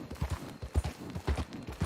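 Horse hooves in Red Dead Redemption 2 clip-clop in a steady, close rhythm of about eight or nine distinct thuds, with a faint voice barely present underneath.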